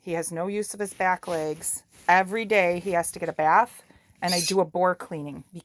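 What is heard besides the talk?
No everyday noises stand out.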